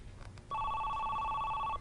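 A telephone in a home rings once, a steady electronic warbling tone lasting over a second, fairly clear against a quiet room.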